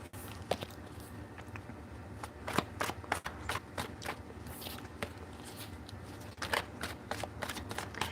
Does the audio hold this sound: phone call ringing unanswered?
no